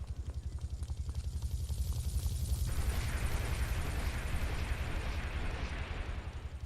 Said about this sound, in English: Don't know what that explosion is.